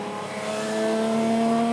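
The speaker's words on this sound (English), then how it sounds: "2000 Mondeo built by ProDrive" A 2000 ProDrive-built BTCC Ford Mondeo race car revs hard, its engine note rising into a loud, sustained tonal howl that builds over a couple of seconds with no talking.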